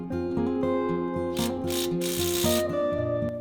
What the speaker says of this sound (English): Then tighten the bolt.